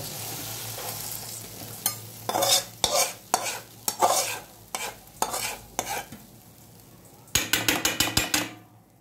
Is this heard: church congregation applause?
no